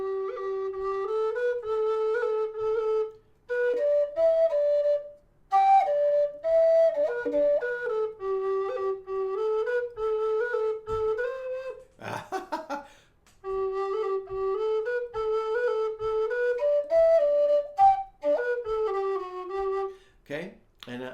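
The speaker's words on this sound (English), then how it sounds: "So I'll grab my whistle first," A tin whistle plays the Kesh Jig, low and high D, in quick melodic phrases with brief pauses between runs, clear and close, solo with no talking.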